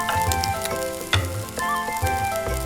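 Small sausages and cherry tomatoes sizzle and fry in a pan beside a thick rolled omelette, a close, steady crackling hiss with occasional louder pops and clinks.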